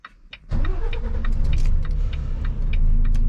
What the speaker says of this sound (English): Put it on neutral, start the vehicle.